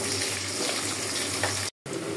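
Fish and chopped bottle gourd fry in a hot pan with oil, giving a steady, close sizzle and crackle throughout, broken by a brief silent gap near the end before the frying resumes.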